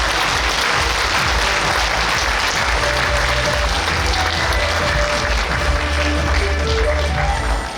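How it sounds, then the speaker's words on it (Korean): Loud, sustained applause from a large audience welcoming the author at a book launch event, steady clapping with crowd noise throughout. "박수로 환영해 주십시오"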